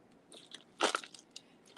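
Dried Himi gouache paint crunches as a brush works it, giving a few soft scratchy scrapes followed by two louder, gritty crunching bursts, close and alone.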